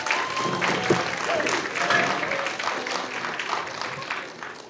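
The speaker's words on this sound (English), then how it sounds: "clap it up!" Applause from an audience at a school writers' event, a steady wash of many hands clapping that holds for several seconds and slowly eases toward the end.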